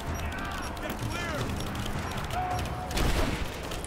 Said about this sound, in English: Who's throwing grenades at me?